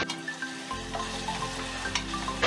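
Aloo gosht with garam masala sautéing in a pan, a steady close sizzle and hiss with faint stirring scrapes throughout.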